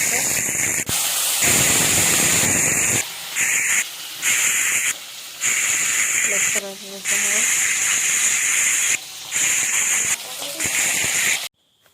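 Fish frying in hot oil: loud, close hissing and sizzling bursts that stop and start in long stretches, with brief gaps and a voice speaking in between.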